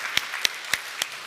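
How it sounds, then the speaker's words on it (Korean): Church congregation at a Sunday service clapping for the fathers, heard as four spaced, distinct claps, fairly quiet and sparse. "우리 아버지들을 한번 큰 박수로 축복하고 우리 박수로 하겠습니다"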